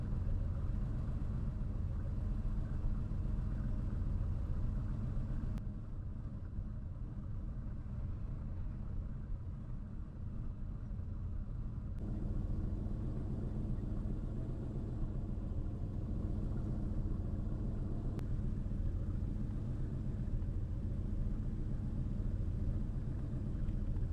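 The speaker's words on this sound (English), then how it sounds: "I let the engine idle for a bit" A Porsche 964 engine idles steadily, a continuous low rumble held at an even level throughout, with no voices present.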